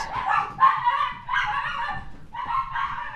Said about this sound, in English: Those are my dogs. I don't know what they're getting all excited about.